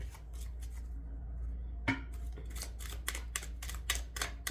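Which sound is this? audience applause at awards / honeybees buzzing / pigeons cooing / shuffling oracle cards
shuffling oracle cards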